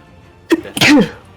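One sharp, close sneeze at a tabletop role-playing game session: a short breathy intake, then a loud burst that trails off, with no talk over it.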